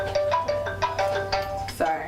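A phone ringtone chimes in a repeating melodic pattern of short bright tones, moderately close, over a quiet room background.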